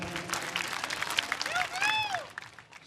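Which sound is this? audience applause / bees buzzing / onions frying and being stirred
audience applause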